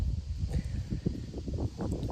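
Low, steady wind buffeting outdoors, a continuous rumbling rush with faint rustling, fairly close and moderately loud throughout.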